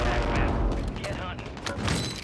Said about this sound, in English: Shooting you three times with a sniper rifle.